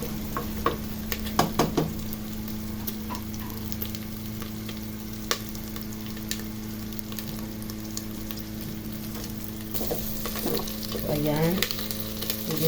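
Carrots and other ingredients sizzle steadily in a frying pan as they brown with pork, with scattered clicks and scrapes of stirring throughout and a louder stir near the end; no one speaks.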